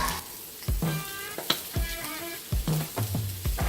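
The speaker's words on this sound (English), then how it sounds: "Now we're gonna grill up some onions, so that way we get these all nice and caramelized." Onions sizzling and frying on a 36-inch Blackstone griddle with olive oil, a steady close crackle with a few clattering spatula taps over it and no talking.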